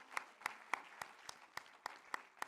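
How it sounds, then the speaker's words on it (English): Conference audience at an ITU standards assembly gives a round of applause, heard as faint, distant, evenly spaced claps, about nine in a slow, steady rhythm. "Let's welcome her to the stage with a round of applause."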